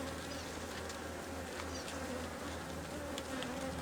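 Honey bees buzz steadily around an opened hive during an inspection, a dense, continuous droning swarm close to the microphone with small shifts in pitch as individual bees pass.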